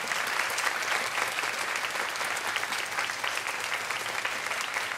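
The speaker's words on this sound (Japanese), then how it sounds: "本当に素敵なミュージシャンに、もう一度盛大な盛大な拍手を。" Loud, sustained applause from a festival crowd for the musicians, a thick continuous wash of many hands clapping without break.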